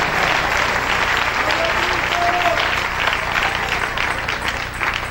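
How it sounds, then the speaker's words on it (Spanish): A church congregation applauding during a Sunday morning service, a loud, sustained wash of clapping with a low background hum and some faint voices mixed in. "Dale un aplauso al Rey en esta mañana"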